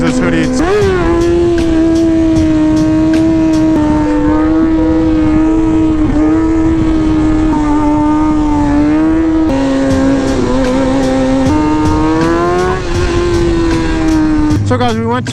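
A motorcycle revs hard and continuously during wheelies and stoppies on a city street, its loud engine note rising and falling close by with brief shifts in pitch and no break.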